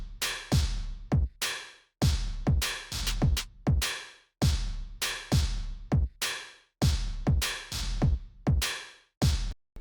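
A hyperpop remix drum pattern of punchy kicks and sharp snare hits, looping loud and alone in a tight, repeating rhythm with quick fills.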